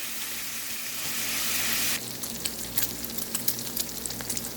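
Bacon frying in a pan, a steady close sizzle that shifts partway through to a crackling spatter of irregular pops.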